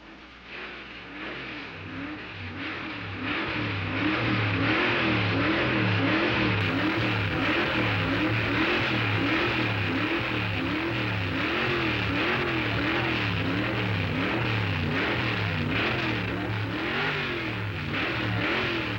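A 1959 dragster launching down the strip, its engine swelling from a low idle into a loud, sustained roar with wavering revs, close and alone.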